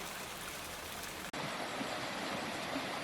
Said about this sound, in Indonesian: Sungai yang mengalir di dalam goa tersebut dapat meluap hingga mencapai atap goa